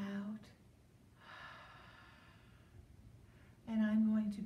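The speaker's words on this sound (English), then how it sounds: "I'm going to take a deep breath in" A slow, soft breath drawn in and let out during a mindfulness exercise, a long airy hiss in the middle, with a speaking voice just before and after it.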